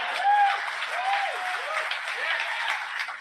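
A crowd at a political rally applauds and cheers with rising whoops and shouts riding over continuous clapping, loud and sustained throughout.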